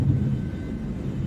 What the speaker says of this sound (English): Here you hear the engine more.